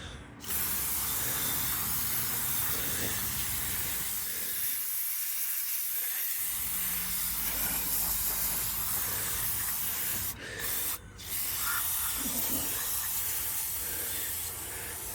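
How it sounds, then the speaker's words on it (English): Valvoline brake cleaner sprays in a long, loud, close hiss over car brakes, the jet briefly interrupted twice before resuming, with faint mechanical clanks beneath. "I've gotten the cheapest brake cleaner from AutoZone, Valvoline that they had, and that's what I'm using here. I'll hose this all down"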